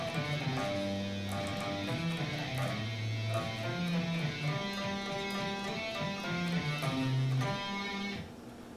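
An electric lead guitar plays the second half of the Jingle Bells melody as single sustained notes at a moderate, steady pace. It is played alone, without voices, and fades out at the end.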